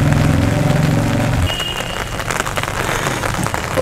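Heavy rain falls on a rooftop terrace garden in a dense, steady hiss of drops. An engine-like hum sits under it at first, then fades away.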